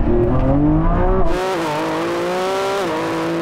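A Lamborghini Revuelto engine revs hard and loud in Corsa performance mode, pitch climbing in a strong rising sweep, then settling into a sustained higher-pitched roar.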